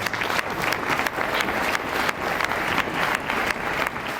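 A congregation applauds at a memorial service, a broad, continuous roar of many people clapping that swells and pulses slightly over several seconds, fairly loud and unbroken by talk.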